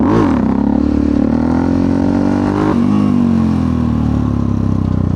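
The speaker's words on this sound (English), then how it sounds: "So what we're doing, 20 mile an hour, we're going to pop the clutch." A Yamaha XT660X single-cylinder motorcycle engine holds loud, close high revs, dips briefly as the clutch is popped for a wheelie, then pulls hard and keeps roaring.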